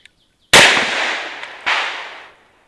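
Two sharp, loud shots from a Ruger GP100 .357 Magnum revolver, each a hard crack with a long echoing decay outdoors, the second about a second after the first.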